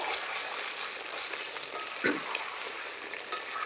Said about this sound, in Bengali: দেখুন মাংসর থেকে তেল ছেড়ে দিয়েছি কত সুন্দর কষানো হয়েছে